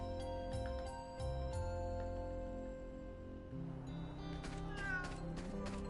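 A cat meows repeatedly in a video game shop scene, the Sandsea Temple item shop in Fantasian Neo Dimension, its cries rising over steady game music.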